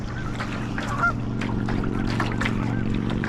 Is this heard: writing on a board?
no